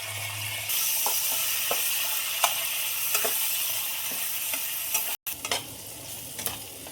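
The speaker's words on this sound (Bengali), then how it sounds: "দেখো মশলা খুব ভালোভাবে ভাজা হয়ে গেছে" A steady, close frying sizzle of cumin and green chilli paste with scattered scrapes and clicks from stirring in a pan, briefly cutting out near the end.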